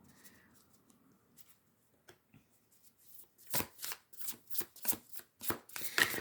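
Shaman's Dream Oracle cards are shuffled close up, a quiet pause giving way to a rapid run of crisp riffling flutters, repeated about eight times in quick succession.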